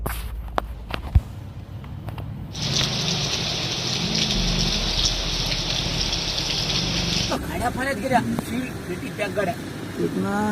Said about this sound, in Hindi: अगर बारिश का सिलसिला इसी तरह जारी रहा तो सूरत हाल और ख़राब हो सकती है।